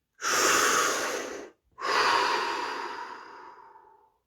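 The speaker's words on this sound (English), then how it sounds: "Deep breath." A deep, slow breath taken close up during a quiet meditation, with a full airy draw followed by a brief pause and a long, gradually fading exhale; no one speaks.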